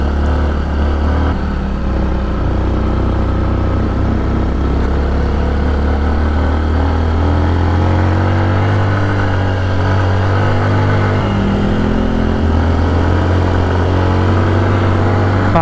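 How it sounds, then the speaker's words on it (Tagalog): Motorcycle engine labouring up a steep slope inside a Philippine mine, a steady loud low drone with a shifting pitch throughout, heard up close with no talking. "Hindi na masyadong hirap yung motor natin sa mga ganito."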